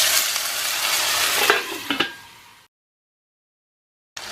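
Chopped tomatoes hitting hot oil with light-brown cumin seeds in a pan, a loud steady sizzle with a couple of sharp stirring clacks, then sudden silence before the sizzle briefly returns.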